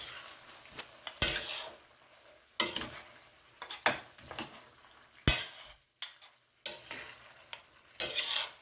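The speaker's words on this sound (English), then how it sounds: "I'm going to lower the heat a little bit to medium, and I'm going to toss so everything is nicely combined" Beef stir-fry is tossed in a pan over medium heat with garlic, ginger and soy, sizzling steadily while repeated scraping and clinking bursts from the utensil and pan come every second or two, close and loud, with no talking.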